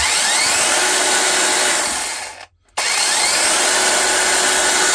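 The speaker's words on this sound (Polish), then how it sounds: "i pilareczka pięknie nam pracuje" A cordless electric chainsaw with a 40 cm bar and dual 4Ah batteries runs at a steady high whine, cuts out briefly, then restarts and keeps running loudly and close.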